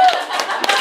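Comedy club audience clapping in answer to a comedian, a brief burst of scattered hand claps filling the room, loudest at the start and tapering off.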